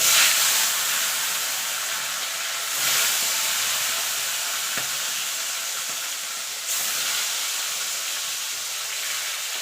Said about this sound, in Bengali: এবার আমি এক এক করে মাছগুলোকে ছেড়ে দেবো